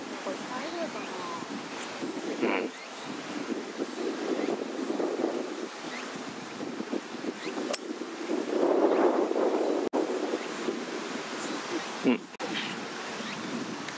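Wind buffets the microphone on a golf course, rising and falling in broad rushing gusts with a stronger surge midway, while people talk underneath.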